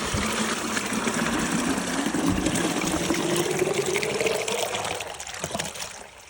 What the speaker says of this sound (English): Put the hose in, turn the valve.